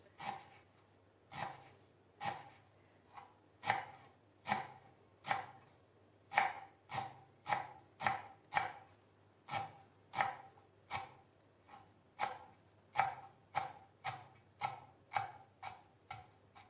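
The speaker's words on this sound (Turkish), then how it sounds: "Dereotunu da güzelce doğradım." A knife chops dill on a cutting board in a steady rhythm of sharp taps, about two per second, close and clear.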